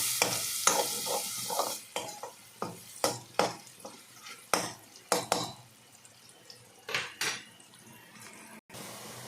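Egg and chickpea curry is stirred in a pan after the lid comes off. A spoon scrapes and knocks in a rhythmic series of distinct strokes over a low sizzle, close and clear.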